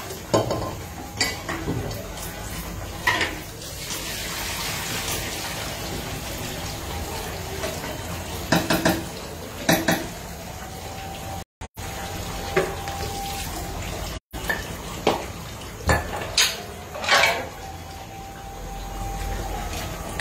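Meat and greens being stirred in a pot in a home kitchen, with scraping and clinking of utensils against cookware over a steady watery sizzle. Continuous and fairly close, with no speech.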